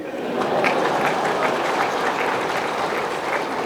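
An audience at a poetry recital in Patna breaks into sustained applause, dense steady clapping from a crowd filling the whole moment, loud and even throughout.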